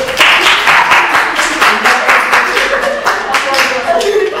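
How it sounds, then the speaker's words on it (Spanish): Secondary school students in a classroom applaud together, a dense run of many hands clapping at close range, steady and lively throughout, with voices chattering under the clapping. "Aplausos"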